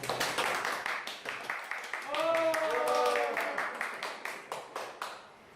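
Scattered hand claps ring out from a lecture audience, distinct and fairly quiet, with a speaking voice rising briefly midway before the clapping thins and fades.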